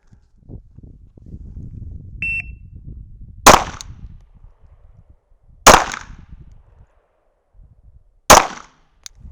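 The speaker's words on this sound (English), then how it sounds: "Okay, so there's 3 pretty decent shots there." Three sharp pistol shots fired at a distant target, each a loud crack standing alone several seconds apart over quiet rustling and handling noise.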